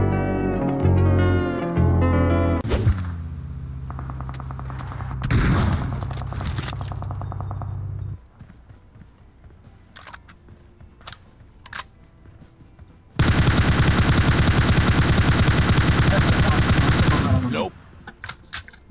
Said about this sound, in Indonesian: Tuh nembak lagi ya